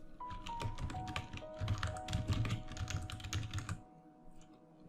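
Steady clatter of keys on a computer keyboard as a name is typed in, close and fairly quiet, with rapid irregular taps that run for about four seconds and then stop.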